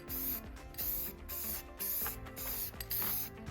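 A spray gun hisses in repeated bursts as a camper is spray painted outdoors, each pulse of spray lasting under a second with short gaps between, faint and steady with no talking.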